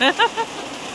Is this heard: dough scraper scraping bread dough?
no